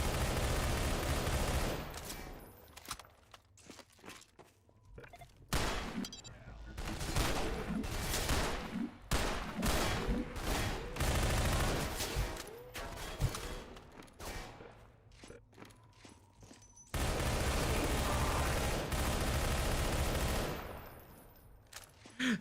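Rapid automatic bursts from an AR-2 rifle in the video game Entropy: Zero 2, loud volleys broken by short pauses, with heavier stretches of sustained firing.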